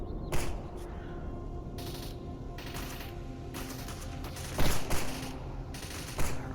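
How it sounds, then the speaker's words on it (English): Distant gunfire in the S.T.A.L.K.E.R. Anomaly video game, scattered sharp shots and short bursts over a constant low ambient rumble, with a louder cluster of cracks late on. "Okay, there's somebody over there shooting."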